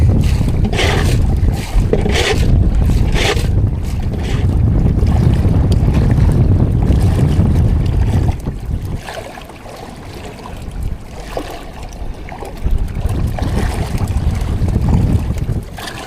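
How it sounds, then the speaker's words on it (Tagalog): Strong wind buffets a small fishing boat at sea, a loud, steady roar of wind noise with water splashing and sloshing against the hull throughout, easing slightly midway before building again. "Malakas ng hangin."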